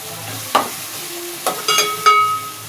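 Ginger garlic paste sizzles in a pan, with a soft background fry broken by several sharp spoon scrapes and stirring clatters close by.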